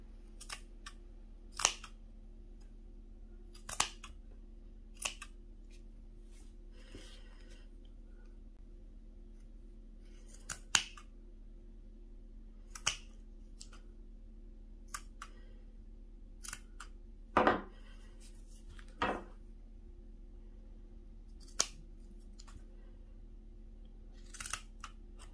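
Small scissors snipping yarn tails from a knitted baby hat, sparse crisp clicks scattered irregularly over about twenty-five seconds in a quiet room, close and fairly faint, with no talking.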